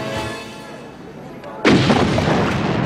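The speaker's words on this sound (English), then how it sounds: "An explosion." A sudden loud boom of an explosion erupts mid-clip and rolls on as a sustained roar, following quieter background sound.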